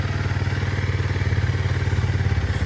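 A motorcycle engine idles near the listener with a steady, rapid thumping pulse and no break, the sound of it warming up after starting.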